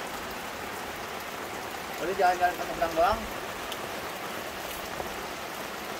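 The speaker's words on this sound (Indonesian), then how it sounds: "Sekarang 1:30 udah 3 jam hujan terus," Persistent rain falling at night at a lakeside campsite at Situ Datar, Pangalengan, after hours of downpour, a steady soft hiss with a person speaking briefly over it.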